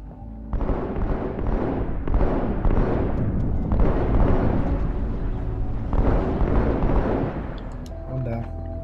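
Gunfire and explosions crackle in Halo 2 on Cairo Station, dense bursts of shooting and booming blasts rolling in clustered waves, with voices talking over the combat.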